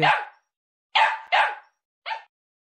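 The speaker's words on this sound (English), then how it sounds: "dog" A dog barks four times beside a baby boy in a high chair, sharp close barks with a quick pair in the middle and a shorter final yip, alone without talk.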